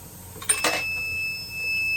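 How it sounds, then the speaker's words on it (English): A mechanical clack on a reloading press, then its primer alarm gives a steady high-pitched electronic beep that holds on continuously as a single unbroken tone, signalling it is out of primers. "As I finish, it continues to beep."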